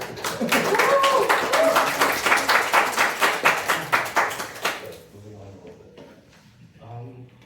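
A community group's audience claps at an anniversary celebration, a loud rhythmic round of applause that tapers off into quiet talk.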